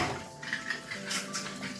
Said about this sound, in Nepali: मेरो अलिकति रातिको भाँडा बाँकी थियो धुनलाई